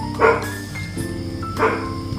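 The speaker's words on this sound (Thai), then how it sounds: "สียงสุนัขที่บ้านเห่ารบกวนนิดหน่อยนะไม่เป็นไรนะครับ" A dog barking at home, two sharp barks roughly a second and a half apart, fairly close and clear, with steady background hum and no talk.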